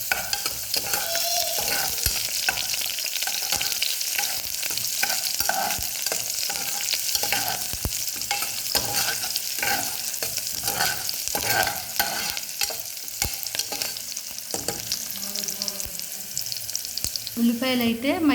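Onions, curry leaves and tempering spices frying in oil are stirred in a pan: a close, continuous sizzle broken by repeated scraping and clinking of the spoon against the pan.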